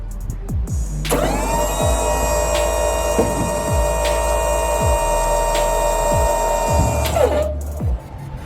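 Hydraulic motor on a rented battery-powered trailer lowering the deck to the ground, a loud steady electric whine held for about six seconds, with clunks and rattles underneath, then cutting off.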